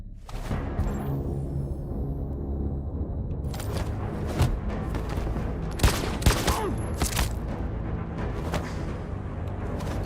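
Gunfire in the video game Detroit: Become Human: a quiet start, then a burst of loud, sharp shots around the middle, several close cracks over a rumbling backdrop.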